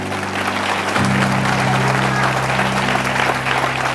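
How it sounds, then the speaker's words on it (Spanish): Church congregation breaking into loud, sustained applause, dense continuous clapping filling the room over a low held organ or keyboard tone. "Denle un fuerte aplauso a Dios."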